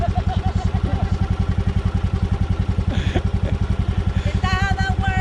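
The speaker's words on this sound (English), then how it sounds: "you fire up the tractor and you drive around the yard" A tractor engine runs while being driven around a yard, chugging in a steady, close, rhythmic beat throughout, with brief voices and a higher whine rising over it near the end.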